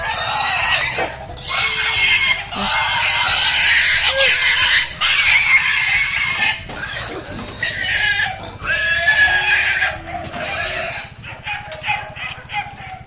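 Pigs squeal and grunt in loud repeated bursts, with barking dogs and farmyard noise mixed in.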